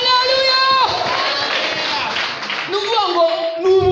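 A church congregation applauding and cheering during a worship service: dense, sustained clapping with shouted voices, framed by a preacher's raised, sing-song speech before and after.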